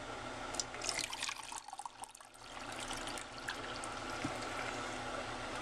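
Water poured into the reservoir of a Rival single-cup coffee maker, a steady close trickle and splash lasting several seconds, alone with no talk.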